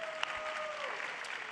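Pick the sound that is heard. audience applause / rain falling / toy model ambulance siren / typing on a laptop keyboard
audience applause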